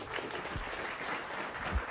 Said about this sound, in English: Let's give Nathan another round of applause.